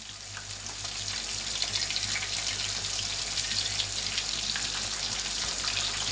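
Pieces of kakrol (spiny gourd) frying in a pan, a dense, steady sizzle with a low background hum, continuous and fairly close, no voices.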